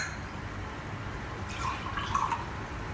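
Water is poured into a measuring cup in a kitchen, a faint, quiet trickle and splash rising briefly over a low room hum.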